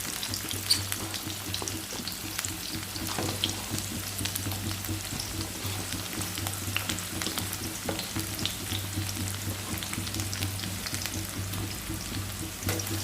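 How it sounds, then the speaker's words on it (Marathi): Cumin, mustard seeds and chopped onion frying in hot oil for potato bhaji, a dense, even sizzle and crackle with stirring scrapes, loud, close and steady the whole time, no talking. "आता तेल गरम झाल्यानंतर त्यामध्ये आपण थोडेसे जिरे घालायचे, थोडीशी मोहरी घालणार आहोत आणि थोडासा कांदा घालायचा आहे"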